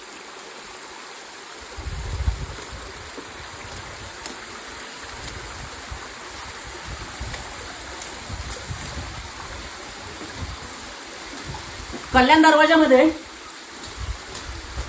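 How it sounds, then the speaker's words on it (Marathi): Monsoon rainwater pours down the stone steps at Sinhgad Fort near Pune like a waterfall, a steady broad rushing that runs under someone talking, with a brief louder burst near the end. "या पायऱ्यांना अक्षरशः धबधब्याचं स्वरूप आलंय"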